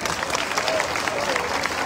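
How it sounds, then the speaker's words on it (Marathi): Audience at a Congress political rally claps steadily for a leader, a dense wash of applause filling the short moment, fairly even in loudness with a faint crowd murmur underneath. "रविदादांसाठी खरंच जोरदार टाळ्या झाल्या पाहिजे।"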